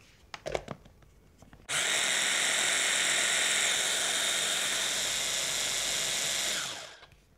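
An electric blender whizzing yoghurt, eggplant and sesame sauce, starting abruptly after a few clattering knocks, running as a loud steady whine for about five seconds, then spinning down to a stop.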